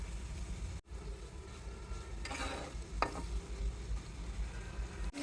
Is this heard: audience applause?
no